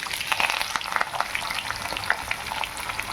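Sliced onions frying in hot oil with curry leaves and dried red chilies in a tempering, a dense close crackling sizzle with scattered sharp pops throughout and no voices.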